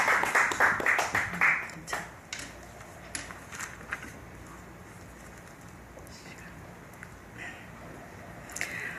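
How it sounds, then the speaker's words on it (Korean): A church congregation welcomes a pastor to the pulpit with applause: a burst of clapping at the start fades after about two seconds, then a few scattered claps follow amid quiet room noise. "우리 박수로 모시겠습니다."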